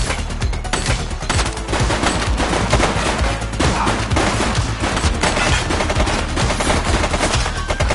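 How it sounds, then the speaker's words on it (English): Sustained gunfire in The Precinct, a police action game, with loud, dense bursts of shots rattling almost without pause, close and overwhelming throughout. "Shots fired!"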